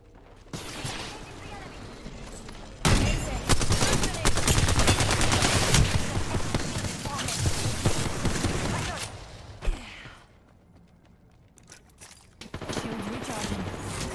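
Sustained volleys of gunfire in the battle royale shooter Apex Legends, loud and continuous for several seconds before dropping to a quiet stretch, then resuming faintly, with in-game voice lines.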